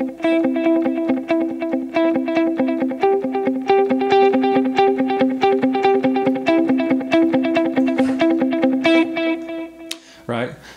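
Electric guitar with light crunch picks a repeating note pattern, each note echoed by a dotted-eighth delay, playing continuously before ending with a short noisy burst.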